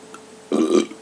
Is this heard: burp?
yes